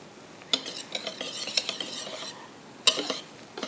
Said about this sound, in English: I just lightly mix this.